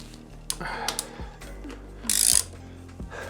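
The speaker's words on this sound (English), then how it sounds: "I'm gonna keep pulling the bolt on the other side" A wrench ratcheting and pulling a 12mm bolt to remove a crash bar from a Honda Africa Twin motorcycle, close clicking and metallic scraping with a brief loud ratchet burst near the end.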